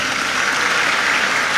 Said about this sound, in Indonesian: Tepuk tangan buat Raka.